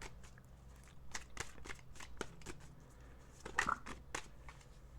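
Tarot cards are shuffled close up in a quiet room, with a series of crisp riffling flicks and soft slaps, faint and intimate.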